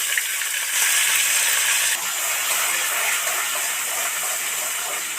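Chopped onion and chili sizzle in hot oil in a kadai, a close, steady frying hiss that swells briefly near the start and then settles into continuous crackle.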